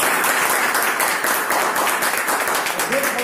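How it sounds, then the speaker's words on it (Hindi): Audience applause welcoming a speaker at an IMC event, a dense, steady wash of many hands clapping that runs through the whole moment at even loudness. "हम लोगों के बीच में सरिता दीदी हैं, एक जोरदार ताली के साथ।"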